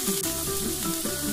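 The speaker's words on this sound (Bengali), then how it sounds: "এবার ডাঁটাগুলো একটু ভেজে নেব।" Amaranth stems frying with potatoes in a pan give a brief, steady sizzle of oil that stays even throughout.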